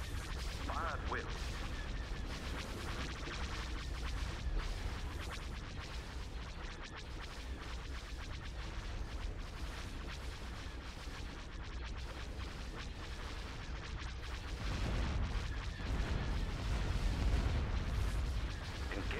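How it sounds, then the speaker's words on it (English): In the Star Wars Empire at War video game, starship batteries fire in a dense, continuous barrage of booming shots and crackling blasts under a steady battle rumble, with no clear speech. "Targeting at maximum firepower. All batteries commence firing."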